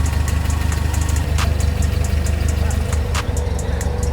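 A Willys MB jeep engine drives through mud with a steady, loud low rumble and a rough, knocking idle throughout, occasional faint clicks riding on top.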